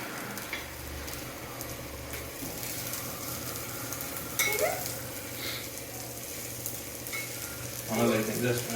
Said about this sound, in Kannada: Fry ಮಾಡ್ಕೊಂಬಿಡು mushroom.